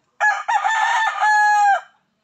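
A single rooster crows once, loud and close, a bright drawn-out cock-a-doodle-doo with a break early on and a long sustained final note, standing alone in quiet surroundings.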